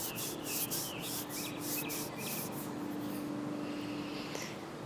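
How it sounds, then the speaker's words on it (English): Palms rub slowly together during a guided meditation, a soft continuous brushing hiss with faint rhythmic strokes, quiet and close, with no talk over it. "slowly bring your palms together, and you can rub your palms"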